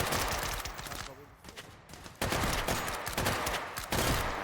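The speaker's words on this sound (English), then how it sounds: "this weapon does not have a select fire. It's fully automatic only." Fully automatic rifle with a 60-round magazine firing in a competitive first-person shooter match, dense rapid bursts running nearly continuously with brief gaps, loud and close amid game effects and commentary.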